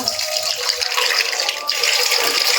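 Rice being washed under running water in a home kitchen: a steady, close rush of tap water with a light rattle of grains.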